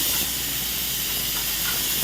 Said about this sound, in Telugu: కుక్కర్ ఒకటి వచ్చిందండి విజులు.